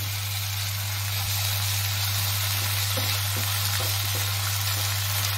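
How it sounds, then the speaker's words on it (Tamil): Ginger garlic paste sautéing in a pan for a simple Tamil chicken gravy, giving a steady, even sizzle with a constant low hum underneath, no talk. "இந்த இஞ்சி பூண்டு பேஸ்ட்டு அதை போட்டு நல்லா அந்த பச்சை வாசனை போகிற அளவுக்கு வதக்குங்க"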